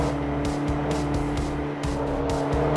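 Race car in the video game Forza Motorsport 3, a loud steady engine drone with repeated short bursts of tire squeal in a quick irregular rhythm, close and continuous.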